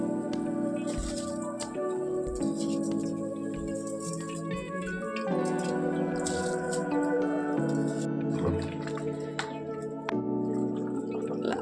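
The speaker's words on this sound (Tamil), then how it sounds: "அரிசியும் போட்டு கொதி வந்துருச்சு." Rice boiling in a pot of spiced water for a Chettinad-style meal maker rice, giving a steady low bubbling and gurgling with occasional drips and squishy pops, close and continuous throughout.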